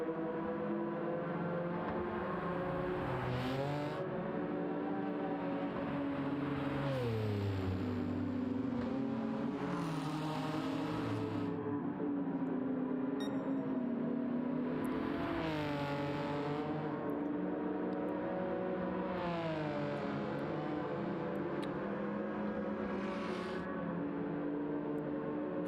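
A built-up Porsche race car in Gran Turismo 7 roars steadily near the finish of a race, its engine climbing and dropping through repeated revs and gear shifts, loud and continuous with no talk.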